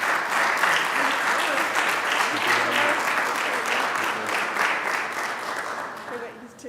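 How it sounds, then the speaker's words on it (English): Sustained audience applause fills a city council meeting chamber, a dense steady clapping that holds loud for several seconds and then begins to thin and fade toward the end. "So let's give these guys a huge round of applause for all they do."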